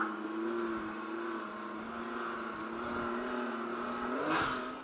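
A Polaris RZR Turbo S off-road vehicle drones steadily under load, then a quick throttle blip near the end raises the engine pitch briefly; fairly faint and distant.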